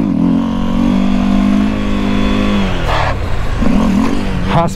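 A Honda CB 300F Twister motorcycle revs hard and loud close by, its engine note holding high before dropping as the throttle closes, then rising again in shorter pulls.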